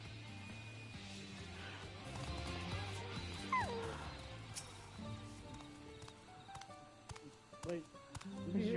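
A dog in a room whimpers, yips and gives soft barks, the cries faint and scattered beneath continuous video game music and background sound.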